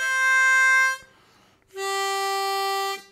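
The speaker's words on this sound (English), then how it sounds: "Four blow." Harmonica notes from hole four: a steady held reedy tone, a short gap, then another sustained note that slides slightly at its end, played solo and close.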